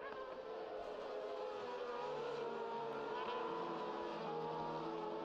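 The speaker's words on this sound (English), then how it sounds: "Schlosser and Schmidt head towards the penultimate corner" Racing sidecar motorcycles at a 2024 Sidecar World Championship sprint race at Autodrom Most give a steady engine drone with a slight rise and fall as they pass, heard from some distance with no talk.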